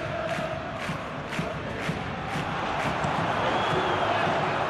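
A stadium crowd roars in the football video game SP Football Life 2025 during an El Clasico between Real Madrid and Barcelona. The dense, steady roar holds throughout, with faint claps and shouts rising within it.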